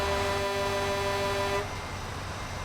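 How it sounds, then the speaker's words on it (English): A truck horn in the Euro Truck Simulator 2 driving game blares as one steady, loud tonal honk for about a second and a half, then cuts off, leaving a low engine rumble. "Honking."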